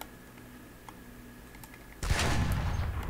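Game gunfire in a firefight near Sableport: a low background hum with faint clicks, then a sudden loud, rapid burst of automatic fire that continues through the end.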